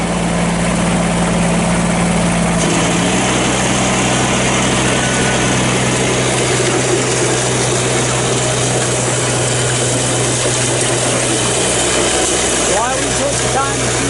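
A Kubota BX2750B compact tractor with a snow blower runs with a loud, steady engine drone, and its pitch drops after a few seconds as the load settles into a constant rumble with some clattering.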